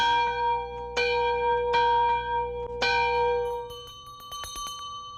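A large church bell, its tone shaped by its metal and size, strikes four times at roughly even intervals, each stroke blooming into a long ringing hum, followed by lighter, higher chimes that scatter over the fading resonance.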